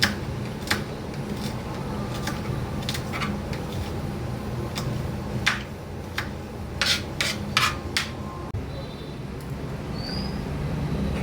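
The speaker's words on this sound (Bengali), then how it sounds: "একটু রসুন কুচি করে নিচ্ছি।" A kitchen knife chops garlic for a chicken and capsicum kachori filling, giving a string of sharp, irregular taps on a board at close range over a low steady background hum.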